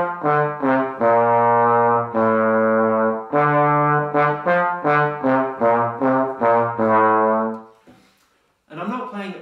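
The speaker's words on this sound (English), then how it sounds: "this is a guitar riff that we're playing on our brass instruments." A guitar riff played on brass alone with no drums, close and loud with slightly separated notes, before a brief spoken voice at the end.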